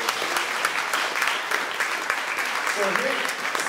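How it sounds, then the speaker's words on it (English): Audience applause at an agricultural education forum in Ventura County, given for all the speakers: a steady, dense wash of clapping from a crowd, continuous and fairly loud throughout. "Can we get a big round of applause for all of our speakers?"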